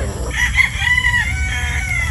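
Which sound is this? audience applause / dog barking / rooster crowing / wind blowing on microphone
rooster crowing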